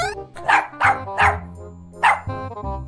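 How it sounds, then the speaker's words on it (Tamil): A dog barks five times in short, loud, close bursts with brief gaps, set over a low steady hum, no voices. "சேஃப்டியான அப்புறம் தான் குலைக்கிற"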